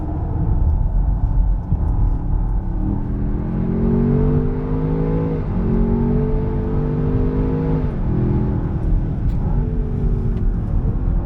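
A tuned 800 hp Land Rover Defender OCTA with a Milltek exhaust accelerates on the Nordschleife, its loud, close engine note climbing through the gears in a steady rumbling roar with brief dips at the shifts.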